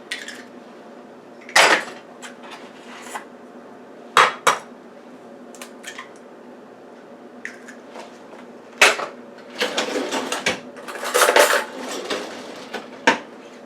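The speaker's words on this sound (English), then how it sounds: "I'm going to crack the eggs separately so that if a shell or something goes in there," Eggs cracked one at a time against a bowl for cornbread batter, heard as several sharp, close taps and clinks with short rustling handling noises between them and no talk.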